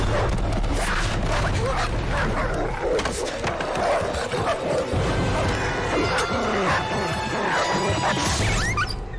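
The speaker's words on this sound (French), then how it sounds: "On doit attendre que ces chiens se dispersent." Dogs outside a shelter barking and yipping in a loud, chaotic din, with crashes and thuds and raised voices mixed into the commotion.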